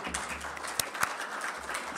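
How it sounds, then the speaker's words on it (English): Church congregation applauding during a Unitarian fellowship service, a quiet scattered patter of clapping from a room of people, fairly distant and soft with a couple of sharper claps standing out. "A lot of applause for the people who made that happen."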